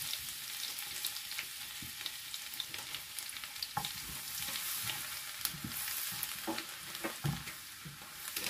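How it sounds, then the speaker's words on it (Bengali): Garlic frying in melted butter in a pan for pasta carbonara, a steady soft sizzle with occasional scrapes and taps of stirring, close and quiet, no voices. "বাটারটা হয়ে আসছে। এবার আমি দিয়ে দিব রসুন"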